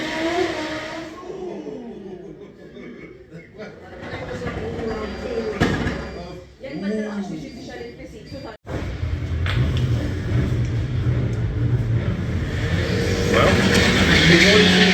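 Fiat Punto race cars run fast in a competitive event, with a steady engine roar and passing rushes that swell and fade, a sharp break midway and a sustained loud drone afterward.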